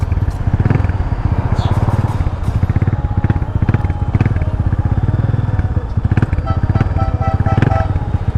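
A motorcycle is ridden around in Jamaica, its engine throbbing in a fast, steady pulse, loud and close, with small rattles and clatter.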